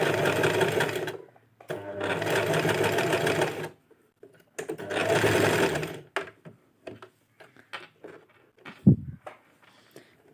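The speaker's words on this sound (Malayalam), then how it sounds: "എന്നിട്ട് ഒന്നും കൂടെ സ്റ്റിച്ച് ചെയ്യാം കേട്ടോ." A sewing machine stitching fabric runs in fast, close whirring bursts of a couple of seconds each, separated by pauses, followed by softer clicks and handling noises.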